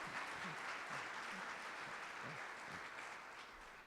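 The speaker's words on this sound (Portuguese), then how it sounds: "Dá uma salva de palmas ao Senhor." Sustained congregation applause at a church service, a dense, steady wash of many hands clapping that tapers slightly toward the end, heard at a distance.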